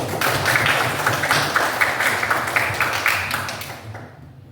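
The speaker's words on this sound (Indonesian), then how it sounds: "Kita kasih tepuk tangan dulu." Students in a classroom clap together in a dense, steady patter with low voices murmuring underneath, then the clapping dies away over the final half-second.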